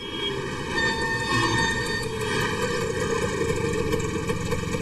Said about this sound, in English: Keep the engine turned on.